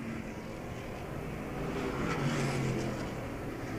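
R&R street stock race cars roar around Star Speedway during a night feature, a steady distant engine drone that swells slightly as the pack passes.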